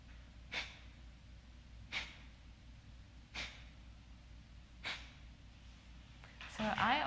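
Kapalabhati breathing, also called skull shining, brings four sharp forceful nasal exhalations at regular intervals, close and clear, followed by a brief rustle at the end.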